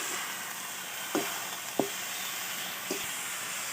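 Turmeric, chili and cumin powders fry with chopped banana flower in a pan, a soft continuous sizzle with three or four light spatula taps and scrapes.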